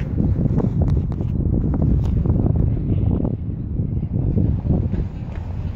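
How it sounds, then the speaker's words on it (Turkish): Strong wind gusts outdoors on a street, buffeting the microphone with a loud, low rumble that surges and eases throughout. "Acayip rüzgar var ha, Allah."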